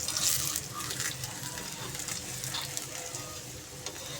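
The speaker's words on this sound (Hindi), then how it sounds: "अब इसको अच्छे तरीके से हम पराठे को पकाएंगे" Stuffed mooli paratha fries on a pan, giving a steady close sizzle and crackle with small scraping touches, continuous and moderately quiet without talk.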